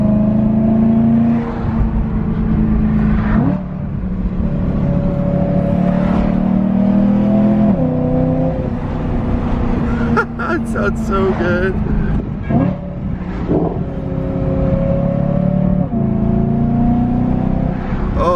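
A BMW M3 with a new Valvetronic exhaust revs repeatedly and loudly up close. Sharp throttle blips rise and fall throughout, while a voice talks briefly over the engine.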